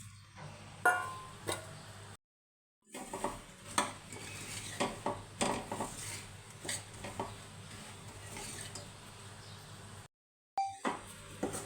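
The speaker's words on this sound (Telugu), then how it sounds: "ముందుగా మనం కొలిచి పెట్టుకున్న 2 కప్స్ బొరుగులను ఇందులో వేసి కలుపుకోవాలి" Two cups of puffed rice are stirred into jaggery syrup in a pan for laddus, with dry rustling, scraping and metallic clinks of the spoon against the pan, broken by two short silences.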